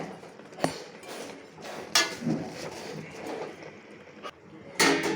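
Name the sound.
stirring and covering a cooking pot of spinach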